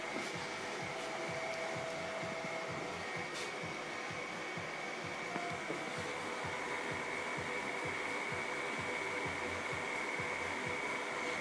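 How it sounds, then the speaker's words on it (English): Loud, steady mechanical whir of server cooling fans with a constant high whine, running continuously without pause. "you may be able to hear the sound from the fans. It's pretty loud."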